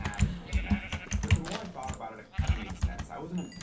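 Sheep bleat repeatedly in the Minecraft Better Than Wolves mod, the calls mixed with clicky keyboard-like taps and a voice talking now and then.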